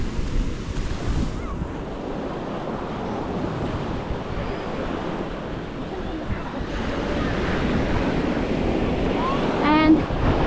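Surf washing ashore at Kata Noi Beach in Phuket, a steady broad roar of waves with wind buffeting the microphone, continuous and fairly loud, with faint background voices and a brief chirp near the end.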